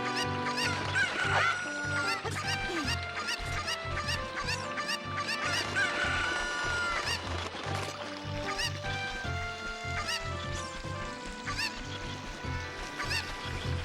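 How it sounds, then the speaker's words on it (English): Chickens cluck repeatedly in The Legend of Zelda: Ocarina of Time, their looping squawks layered over the game's rhythmic background music, steady and continuous throughout. "Trying to keep the chicken with me."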